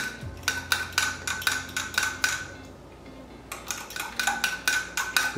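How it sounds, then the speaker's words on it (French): A utensil scrapes and taps against the bottom of a pan while honey garlic shrimp sauce is stirred, giving a rhythmic run of close metallic clicks that pauses briefly midway and then resumes. "vous grattez bien le fond"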